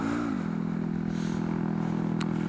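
Honda Grom motorcycle engine while riding, a steady low droning note that drops slightly in pitch early on and then holds constant, close and loud throughout with no speech.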